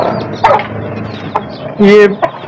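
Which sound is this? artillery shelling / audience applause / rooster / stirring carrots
rooster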